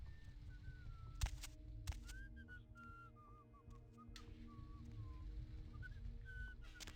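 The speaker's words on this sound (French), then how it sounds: "On l'entend siffler." A character whistles a wandering tune in Vampire: The Masquerade - Bloodlines, a series of short melodic phrases over a low game hum, broken by a few sharp clicks and thuds.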